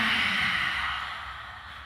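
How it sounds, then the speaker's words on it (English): A big, audible exhale during a family yoga session, a single breathy sigh out through the mouth that starts strong and trails off softly over about two seconds, close and alone. "Big breath out."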